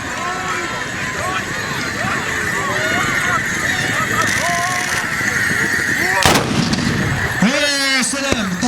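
A volley of musket shots rings out at a tbourida horse festival in Yaacoub El Mansour, Rabat, a sudden loud blast followed by crowd noise and an announcer talking over a busy outdoor din.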